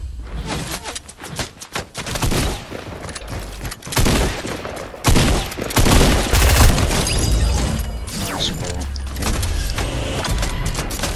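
Gunfire in the Fortnite video game, dense loud bursts of rapid shots and booms, with sustained firing toward the end and no voices over it.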